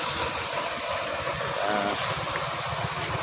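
Four motorcycles warm up with their engines idling, giving a steady, dense low rumble close by that holds evenly throughout, with no voices over it.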